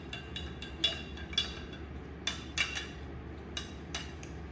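A spoon stirring a homemade lava lamp mixture inside a container, making a series of light, irregular clinks and taps against the side, fairly faint and close.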